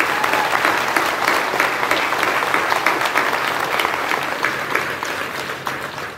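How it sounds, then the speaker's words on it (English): A graduation ceremony audience gives a loud, sustained round of applause, dense clapping filling the hall evenly and fading slightly toward the end. "So let's give a round of applause for Mrs."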